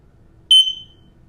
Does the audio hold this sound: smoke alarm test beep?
yes